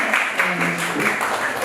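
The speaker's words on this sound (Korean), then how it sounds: "다시 한번 박수 주세요." An audience applauds at a book salon author talk, a steady wash of many hands clapping with a voice speaking over it.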